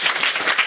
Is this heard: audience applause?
yes